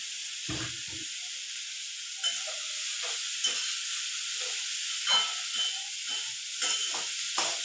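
Red amaranth greens hiss and sizzle steadily in a pan while a spoon scrapes and stirs them in scattered, intermittent strokes at close range, with no speech.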